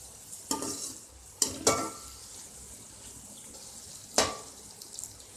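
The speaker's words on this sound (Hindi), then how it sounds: "एक मिनट भिंडी को मसाले में इसी तरह से भून लें ताकि जो मसाला है वो भिंडी के अंदर तक चला जाए।" Okra (bhindi) frying in masala in a pan for achari bhindi, a soft continuous sizzle broken by several sharp spatula scrapes and knocks against the pan, close and fairly loud.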